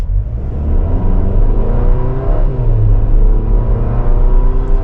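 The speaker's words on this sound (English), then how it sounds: "this Turbo 4 is going to be noisy under load. You can really hear it" The turbocharged four-cylinder engine of a 2024 Chevrolet Traverse LT strains under acceleration, a loud, droning whir rising in pitch as the car pulls away, heard from inside.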